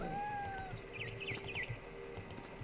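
A cat meows in the video game What Remains of Edith Finch, a few short, fairly faint mews over a steady hum of game ambience and music.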